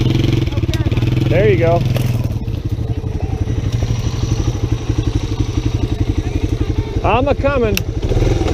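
An ATV revving hard while riding on ice, close, rough engine clatter climbing and falling in bursts, with a voice calling out over it.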